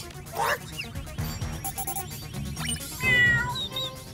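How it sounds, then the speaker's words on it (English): A cat meows several times, short mewing calls spaced apart amid other cartoonish sounds, fairly close and clear. "I'm picking up bird and cat sounds coming from the park."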